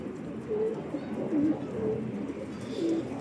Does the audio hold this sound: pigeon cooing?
yes